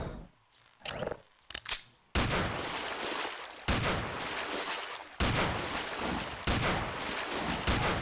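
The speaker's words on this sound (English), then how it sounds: "Shoot the poor alien through this tiny hole" Gunfire from a weapon aimed at an alien in the video game Half-Life: Opposing Force: dense, loud bursts of shots in several rapid volleys separated by brief pauses, with no talking.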